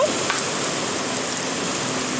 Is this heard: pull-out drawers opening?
no